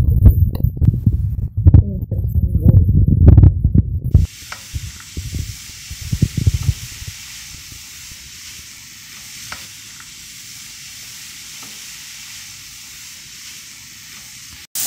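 Garlic and onion dropped into hot oil, with a few seconds of stirring and clatter before a steady, even sizzle settles in and continues quietly for the rest of the time.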